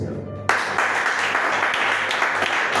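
A church congregation breaks into loud applause for the Lord, sustained clapping from many hands that begins abruptly and carries on steadily to the end.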